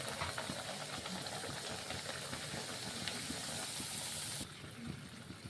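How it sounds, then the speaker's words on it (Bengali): Cauliflower kachoris frying one at a time in hot oil in a wok, a loud, steady hiss and bubbling that drops in level near the end, no voices. "দেখুন কচুরিগুলো বেলে নিয়ে কড়াতে আমরা কচুরিগুলো দিয়ে দিলাম, এক এক করে ভেজে নেব।"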